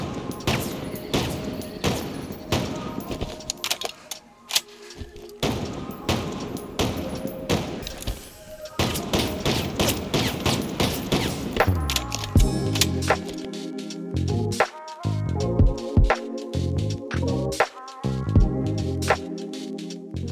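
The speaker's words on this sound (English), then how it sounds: "Introducing the newest addition to Halo Infinite's weapon sandbox," Bandit Rifle gunfire in the Halo Infinite multiplayer match: loud rapid bursts of shots, some tight clusters and steady repeated rounds, with a denser stretch of crisp, evenly spaced single shots near the end and no talk.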